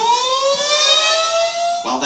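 A tornado warning siren in the Miami Valley around Dayton, Ohio wails loud and steady, its sustained tone slowly sliding in pitch before cutting off abruptly.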